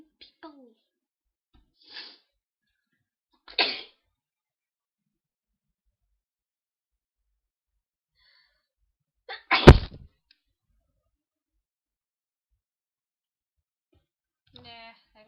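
Repeated human sneezes, isolated and close, scattered across long silent gaps, the loudest near the middle, with brief speech-like sounds at the start and end.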